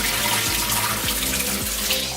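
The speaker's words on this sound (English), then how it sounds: "Then wash your lentils." Lentils being rinsed under a running kitchen tap, with a steady splash of water into a sink or pot continuing without pause throughout, close and moderately loud, with no talking.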